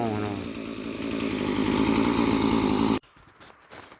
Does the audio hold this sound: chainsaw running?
yes